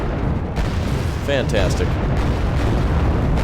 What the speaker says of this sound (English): Multiple missile hits.